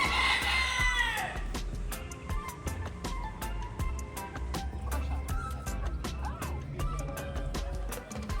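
Roosters crow and free-roaming chickens cluck repeatedly in the open in Key West, Florida, with a crow near the start and scattered clucks over a busy outdoor background.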